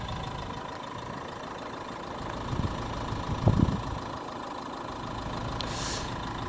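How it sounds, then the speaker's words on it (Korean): A Renault Samsung QM3 small SUV with a 1.5 diesel engine idles with a steady, fairly loud low drone heard from close by, broken by a few brief knocks and clicks near the middle. "이게 디젤 차량인데 디젤 차량 소음을 한번 들려드리도록 할게요"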